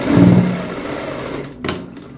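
A sewing machine finishes a line of stitching on pleated palazzo pants, a brief loud whirring run that fades into quiet, followed by a single sharp click of handling.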